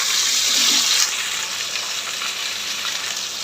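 Pointed gourd and potato frying in oil with panch phoron and onion, a steady close sizzle that swells briefly near the start and then settles into an even hiss.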